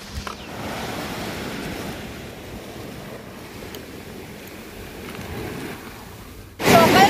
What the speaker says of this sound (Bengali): ঢেউগুলো কিন্তু বেশ বড় বড় আসছে, আর ঢেউয়ের গর্জনটা দেখ, জাস্ট শোনো